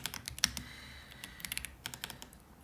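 Rapid typing on a computer keyboard, close and fairly quiet, with uneven bursts of clicking keystrokes and short pauses, no voices.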